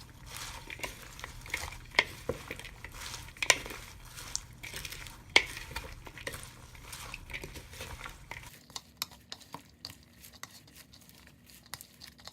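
Tomato and cucumber vegetable salad being tossed and mixed in a bowl, soft crinkly stirring and scraping in an irregular rhythm, close and fairly quiet, fading to near silence near the end.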